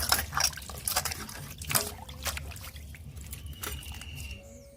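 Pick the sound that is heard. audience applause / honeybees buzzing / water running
water running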